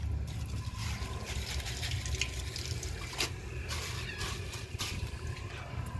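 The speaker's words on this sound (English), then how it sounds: "let's add some water into the bowl" Water being poured into the bowl of a 2015 Glacier Bay toilet, a steady broadband splash and trickle running continuously at close range with no talk over it.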